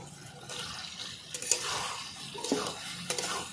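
Boiled taro being stir-fried with spices in a pan for a taro and rohu fish curry, a close, moderate scraping stir with soft sizzling and a few sharp utensil clinks, no voices.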